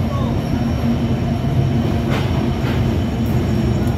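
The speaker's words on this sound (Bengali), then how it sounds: "আমাকে নিয়ে আসা ঢাকা অভিমুখী পঞ্চগড় এক্সপ্রেস আমার হোম স্টেশন মৌচাকে লুপে ঢুকলো" Panchagarh Express, a Dhaka-bound passenger train, rolls into the loop line at Mouchak station with a steady, loud rumble of wheels and carriages that continues evenly throughout, with no voices.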